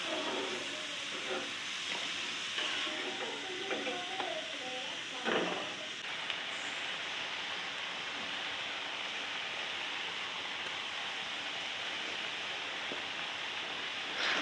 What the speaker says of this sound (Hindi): और इन सबको भी मैं फ्राई कर लेती हूँ।